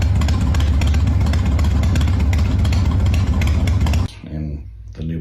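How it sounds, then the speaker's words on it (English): Harley-style motorcycle with an Evo engine running at a loping, galloping idle, loud and close for about four seconds before dropping away to quieter low rumble. "It's got the Evo engine, which is like iconic. Got that like galloping idle that"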